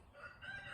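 A small chicken crowing, one short, faint, strained call at a distance.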